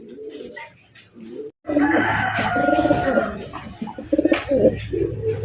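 Pigeons of a fancy breed in a large collection for sale coo in low, throaty, rolling calls, with other birds calling in the background and a burst of nearby fluttering and cooing.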